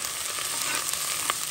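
Shrimp and onions browning in a pan give a dense, steady frying sizzle with faint stirring ticks, close and alone.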